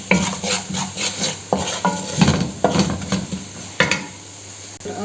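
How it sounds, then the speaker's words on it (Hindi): Ingredients frying in a pan for daal mash, with rhythmic spatula scraping and clinks against the metal pan over a low sizzle, close up and steady. "इनको अच्छी तरह हम भून देते हैं।"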